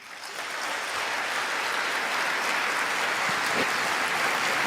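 Parliamentary applause for a speech on the defense of Ukraine swells quickly and holds as a dense, sustained clapping from a large chamber audience, steady and loud without voices.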